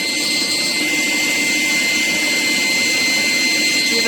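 A forced-air propane forge burner roars steadily and loudly at close range, a constant blower-driven rushing hiss with no pauses or voices.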